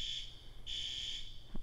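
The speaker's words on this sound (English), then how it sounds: "There's a fire alarm going off while I'm filming this video." A fire alarm sounds indoors in two long electronic beeps with a short gap, faint and steady behind a quiet room, with no talking.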